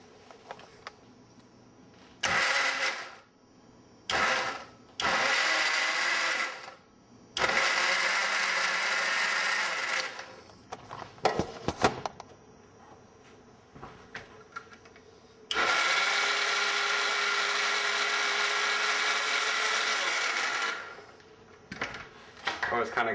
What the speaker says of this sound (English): with a basic blender, you need something in there that's going to help it stir up